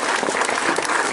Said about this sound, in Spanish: Un fuerte aplauso, por favor, para todos nuestros invitados